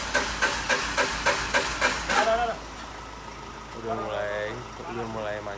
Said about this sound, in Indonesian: Oh my god, mobilnya udah mulai nyala di starter.